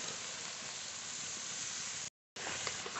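Spinach paste hits frying masala in a pan, giving a steady, loud, dense sizzle that runs continuously, broken once by a brief gap.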